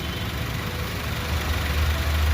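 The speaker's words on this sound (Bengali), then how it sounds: "একদম গাড়ি আইডলিংয়ে রয়েছে, আইডলিংয়ে একদম পারফেক্ট রয়েছে।" A Maruti Suzuki Wagon R engine idles after an overhaul, a steady low rumble heard up close that swells slightly toward the end, with no voices.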